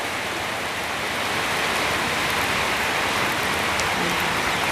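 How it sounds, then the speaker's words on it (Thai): Steady rain falling outdoors by a small roadside shop, a dense continuous hiss and patter of drops on surfaces, fairly loud and unbroken with no talking. "ฝนตก"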